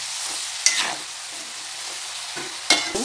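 Steady hiss of yam pieces frying in hot oil, with occasional clanks of a utensil stirring the pan.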